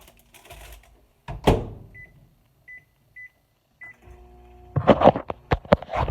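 A microwave oven heating Dollar Tree frozen food: a door clunk, a row of short keypad beeps, then the steady low hum of the running oven, with clattering handling noises at the end.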